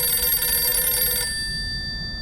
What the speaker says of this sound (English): the power of a ringing phone is so lost on today's generation